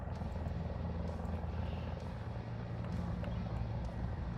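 Mi-35 attack helicopter close by in the War Thunder air and ground combat simulator, a loud steady rotor thump and turbine drone with low engine rumble running throughout.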